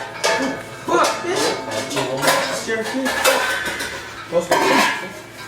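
Metal cooking pot and lid clattering and clinking close up during pasta cooking, a steady run of loud scrapes and knocks with faint voices now and then.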